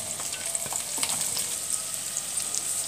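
Julienned onions fry in ghee in a pan with a steady, close sizzle and a few faint stirring scrapes, no voices.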